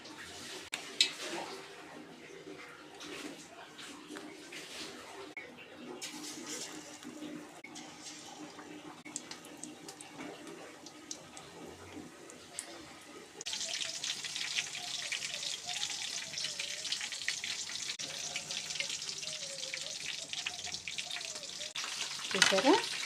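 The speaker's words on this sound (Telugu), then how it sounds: "ఇప్పుడు మనం మిర్చి బజ్జీలు వేసుకుందాం." Mirchi bajji, chilli fritters, go into hot oil partway through, and a steady, bright sizzling hiss takes over the kitchen, following quieter handling noises and faint voices earlier.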